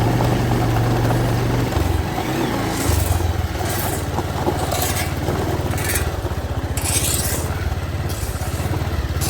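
A motorcycle engine labors loudly and steadily as the bike slips and spins on a muddy hill road to a mountain village, with gritty scraping bursts as the wheel loses grip.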